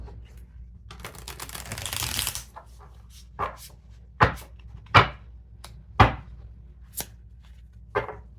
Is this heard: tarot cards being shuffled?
yes